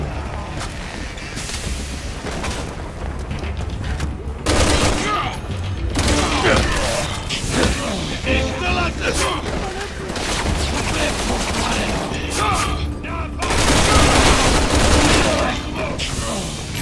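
Sustained bursts of gunfire and heavy weapon blasts in the Resident Evil 6 video game, loud and dense over about seventeen seconds, with surging peaks and brief lulls, clattering mechanisms and voices breaking through at times.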